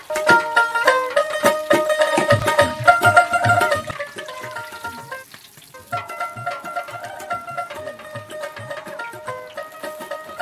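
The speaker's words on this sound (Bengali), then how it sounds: "দেখতে পাচ্ছেন মুরগিগুলো ভাজা হচ্ছে।" Loud, crackling sizzle of chicken pieces frying in oil, with clanking stirring sounds over the first few seconds, then a steadier bubbling fry.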